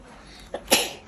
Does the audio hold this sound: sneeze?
yes